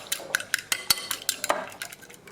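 Chilli chicken marinade being beaten in a bowl, a quick irregular series of sharp metal clinks and taps as a utensil strikes the bowl's sides, close and fairly loud, with no voices.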